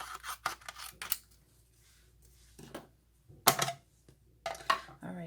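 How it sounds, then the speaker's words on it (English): Scissors snip card in a paper craft session, several short crisp cuts in quick bursts separated by quiet pauses, close and fairly faint. "I'm just cutting it down if I can find my scissors"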